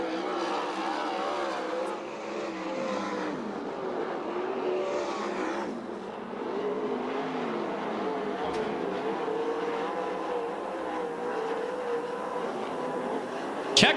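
USAC/CRA sprint cars race in the Trophy Dash at Perris, California, their engines a steady loud roar for the whole stretch, the pitch rising and falling as the cars circle, with no break in the noise.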